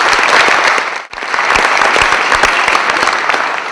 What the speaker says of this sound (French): Je voudrais que vous les applaudissiez parce qu'ils nous ont beaucoup aidés à le faire.